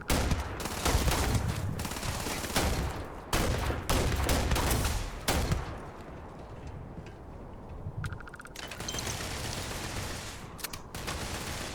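Gunfire from a weapon in the video game Starfield rattles out in loud, rapid automatic bursts, with a short lull partway through before firing resumes.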